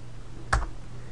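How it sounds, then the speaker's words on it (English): A single quick keystroke on a computer keyboard pressing Ctrl+C, one crisp close click over a low steady hum. "If I do my control C on my keyboard"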